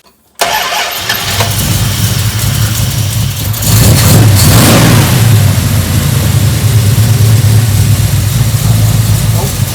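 A 1973 Dodge Dart Swinger's engine cranks and catches, then idles loudly before revving up, rumbling close and steady throughout.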